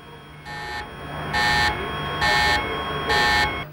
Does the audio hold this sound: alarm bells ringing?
yes